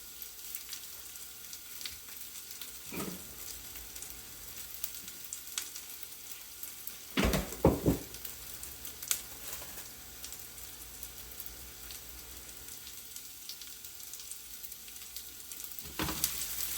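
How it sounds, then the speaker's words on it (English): Onions cook in a pan for a burger topping, giving a soft, low sizzle beneath a quiet background, with a few brief stirring bumps and clatters breaking in. "Just remember to give your onions a stir every now and then as you're doing this."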